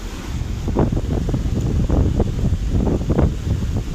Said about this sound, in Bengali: বঙ্গোপসাগর একটু গরম থাকে, তার কারণে পানি ঢেউটা বড় বড় দেখা যাচ্ছে।